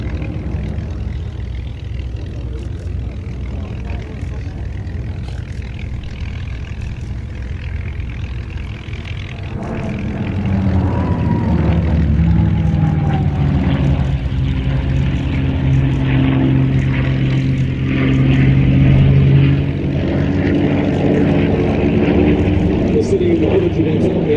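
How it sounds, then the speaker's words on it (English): A P-51 Mustang and a Corsair fly in formation at a live aviation show, a broad propeller engine drone that swells louder partway through and holds steady, with an announcer talking over it. "He's on the left wing of this formation flying that P-51."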